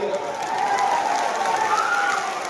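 Crowd clapping at a large outdoor political rally in Simrahi, Supaul, a brief burst of dense, steady applause from many hands.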